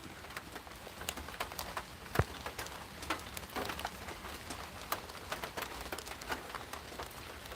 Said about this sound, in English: it's starting to rain a little bit harder even now